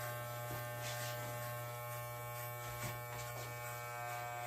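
Electric hair clippers running steadily during a skin fade haircut, a close continuous buzz with a strong hum and occasional shifts as the blade moves through hair.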